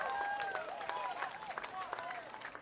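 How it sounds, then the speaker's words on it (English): Faint, distant crowd applause at an Australian football match between the Brisbane Lions and Southport, a soft patter spread across the moment with thin tonal chirps and background noise over it. "You can faintly hear the applause of the crowd."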